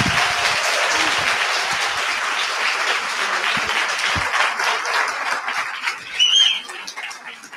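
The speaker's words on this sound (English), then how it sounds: "Please join me in giving a wonderful round of applause to Dr. Sharon Malone." An audience at a book talk gives a loud, sustained round of applause for the speaker, dense clapping that swells, then thins near the end, with a few whoops.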